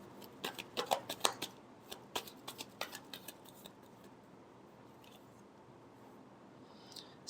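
Tarot cards being shuffled by hand: a run of quick, crisp riffling clicks and flicks in the first few seconds, then a quiet pause with only a faint rustle near the end.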